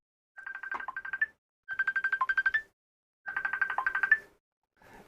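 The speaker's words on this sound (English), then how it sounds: "Stop ringing, stop ringing." A phone ringtone chirps in three repeated bursts of rapid warbling tones, loud and close, with short pauses between, and a fourth burst is just starting as the clip ends.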